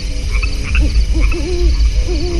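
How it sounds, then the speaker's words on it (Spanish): An owl hoots intermittently at night, with repeated short wavering calls over a loud, low, steady rumble of background noise, and frogs croaking faintly in the same night scene. "La llamada intermitente de una lechuza oculta entre ramas"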